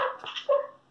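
A dog whimpers and gives a short yelping bark, a high whine sliding down into a brief yip, close and moderately loud with no talk.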